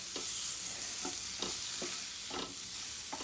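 Tomatoes cook in a soya and potato masala gravy, a soft bubbling sizzle broken by a regular series of stirring scrapes, fairly quiet with no talking.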